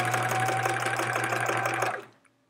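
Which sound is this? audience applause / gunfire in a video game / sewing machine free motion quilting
sewing machine free motion quilting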